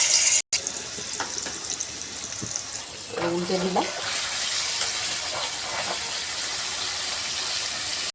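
Beans and paneer frying in hot white oil in a pan give a steady, loud sizzling hiss that runs through the whole stretch, with a few brief spoken words over it.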